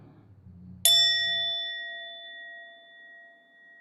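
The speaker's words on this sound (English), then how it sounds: "So we'll ring the bell and get started." A single meditation bell struck once at the start of a session, a clear ringing tone with steady overtones that decays slowly over several seconds, with faint low murmuring just before the strike.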